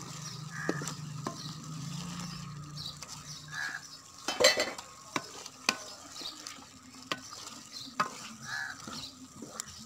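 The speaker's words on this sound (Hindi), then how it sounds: "अब इसको अच्छी तरह मिक्स कर देंगे।" Beef masala with red chilli frying in a karahi, stirred with repeated scrapes and clinks of a spoon against the pot over a moderate, steady sizzle.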